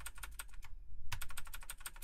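Close, crisp clicks of laptop keys being pressed, Fn with Page Up and Page Down, in a rapid irregular run of taps with a brief pause midway; no voices.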